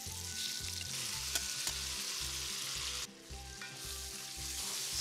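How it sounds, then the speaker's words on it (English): Pork fillet stir frying in a hot pan makes a continuous, even hiss of sizzle with a rhythmic low pulsing underneath, briefly dipping midway, and no one speaks. "I'm going to stir fry the pork"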